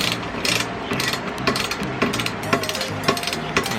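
Rapid ratchet clicks from a wrench tightening a nut with a lock washer while an NMAX crash guard is installed, in a steady series of short bursts about every half second, close and fairly loud, with no talk.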